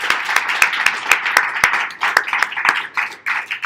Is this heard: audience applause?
yes